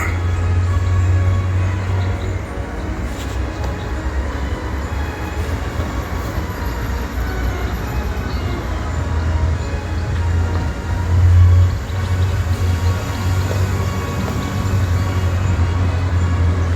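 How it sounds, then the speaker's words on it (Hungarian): Steady low rumble of a train rolling along the tracks in the Caucasus, continuous and fairly loud with a slight swell partway through, no voices. "Ja, és még ott van a vonat is."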